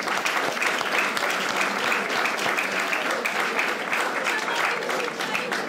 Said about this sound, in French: une bonne main d'applaudissements aux élèves et à vous aussi